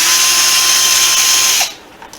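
A power driver spins out T25 screws from the gauge on a 2019 Road Glide Special motorcycle, a loud steady whir lasting about a second and a half before cutting off, followed by faint handling clicks.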